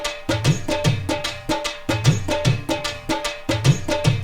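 Dhol, tabla and dholak drums play together in a steady looping groove, with deep booming hits and crisp hand-drum slaps repeating in a tight rhythm, loud and close with no talk.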